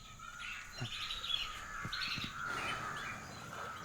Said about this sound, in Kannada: ಪಕ್ಷಿಗಳು ಸದ್ದು ಮಾಡುತ್ತಾ ತನ್ನ ತನ್ನ ಗೂಡುಗಳಿಗೆ ಹಿಂದಿರುಗುತ್ತಿವೆ